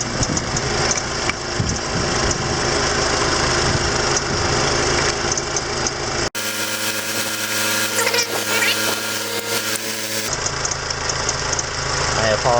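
An idling Mitsubishi Galant VR4 engine runs loud and close under the hood, with a harsh scraping, rattling noise from a lever rubbing on the hood; the sound cuts to a different, tonal section midway.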